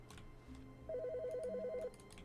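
An in-game telephone in The Stanley Parable rings steadily, a trilling electronic ring lasting about a second over a low ambient hum, with no voices.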